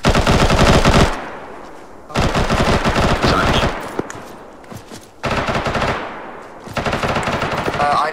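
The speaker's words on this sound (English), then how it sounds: "just fire into that smoke, waste some ammo" Sustained automatic rifle fire poured into a smoke screen in ARMA 3, coming in long, loud, rapid bursts separated by short pauses, with faint radio chatter in the gaps.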